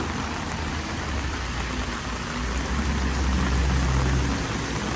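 Steady rain falls outdoors in Korea, a continuous close wash of drops pattering on surfaces, growing slightly louder toward the end, with no voices.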